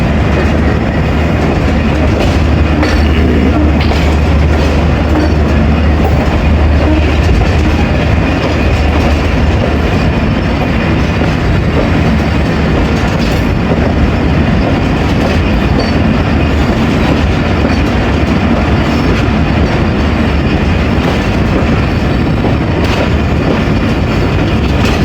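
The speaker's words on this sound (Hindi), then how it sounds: "उस्मान वाला रेलवे स्टेशन पे पहुंच गई ट्रेन" The 38 DN Baba Fareed Express train running on the rails, with a loud continuous rumble and a rhythmic clickety-clack of the wheels heard up close throughout.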